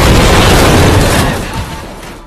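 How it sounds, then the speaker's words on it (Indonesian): A loud, booming car explosion in a film fills the air with a dense roar that slowly fades over a couple of seconds. "hingga mobil tersebut meledak"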